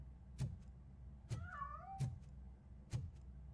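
A cat meows once in the video game RoboCop: Rogue City, a faint wavering call set among four soft, dull thumps spaced about a second apart, with no talk.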